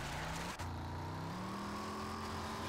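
A car engine in a video game hums and climbs steadily in pitch as it revs, loud and continuous, with one brief knock early on.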